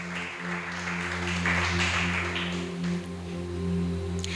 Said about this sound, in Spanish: dale este fuerte aplauso al Espíritu Santo de Dios